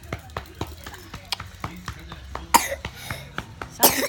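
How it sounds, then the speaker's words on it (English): A young child coughs repeatedly in short, close bursts while sick at home, with a few louder harsh coughs near the end and faint adult talk in the background. "You see he's coughing."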